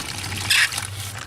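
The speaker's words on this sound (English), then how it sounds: "Then add a little water to it like that." A brief trickle of water pours onto dug-out dirt to make mud, a short splashy burst lasting well under a second over a quiet outdoor background.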